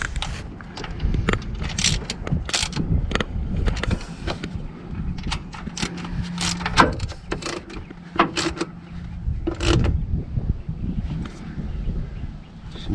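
Bolts being tightened down, a run of sharp metallic clicks and ratcheting taps in an irregular rhythm, fairly close, over a low steady background hum.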